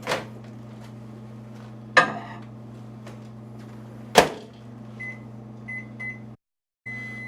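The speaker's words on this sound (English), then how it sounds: "I'm going to throw it back into the microwave for 1 final minute" A microwave hums steadily with a low drone while reheating meatloaf, broken by a few sharp clicks and thumps, then a series of short beeps as it finishes.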